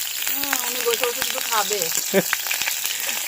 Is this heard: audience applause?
no